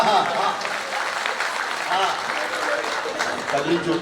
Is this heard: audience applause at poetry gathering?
yes